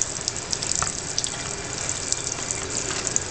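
Water runs steadily from a household sink faucet, a continuous close hiss with small splashes and gurgles, while a child plays under it; no talking is heard over the flow.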